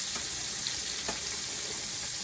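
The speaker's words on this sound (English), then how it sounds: "I saute it for a few minutes" Food sautés and browns in a skillet with a close, steady sizzling hiss and a couple of faint stirring ticks, with no voices over it.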